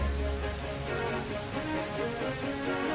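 Steady rain falls in a children's train story scene, a dense continuous hiss that never lets up, with soft music tones running underneath.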